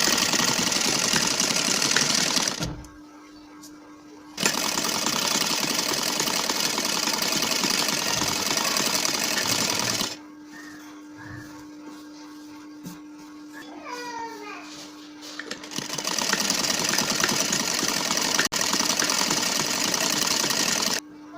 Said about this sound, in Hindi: अब इस साइड से भी हम इसके ऊपर एक सिलाई मार देते हैं